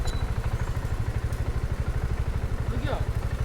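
A delivery motorcycle's engine idles close by in slow traffic, giving a steady low, throbbing rumble with faint clatter throughout.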